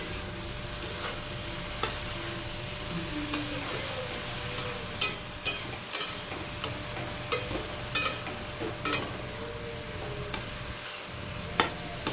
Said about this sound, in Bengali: এবার মশলাটা ভালো করে চিচিঙ্গার সাথে মিশিয়ে নেবে।